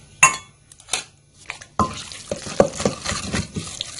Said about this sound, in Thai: ใส่น้ำไปเรื่อยๆคุ้นไปเรื่อยๆค่ะ